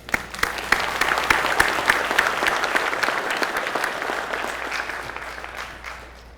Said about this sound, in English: Please give a warm round of welcome applause to our guest speaker